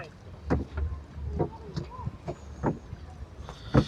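Dragon boat paddles strike the water in a race, a series of splashy, rhythmic pulls about once a second, under wind noise and occasional talk.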